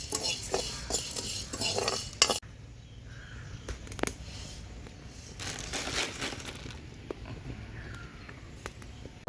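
Whole spices, cinnamon, bay leaf, star anise and cloves, stirred in a dry pan, with scraping and light rattling of a utensil against the metal pan and scattered clinks, close and quiet, with no voices.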